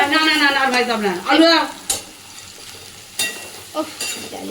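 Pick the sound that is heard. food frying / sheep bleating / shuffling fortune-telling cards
food frying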